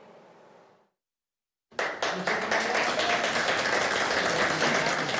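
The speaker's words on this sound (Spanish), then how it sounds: "Entre aplausos y felicitaciones" Applause breaks out at a National Assembly economic development committee vote, a dense burst of clapping that starts abruptly after a short silence and keeps going loud and sustained, preceded by faint background murmur.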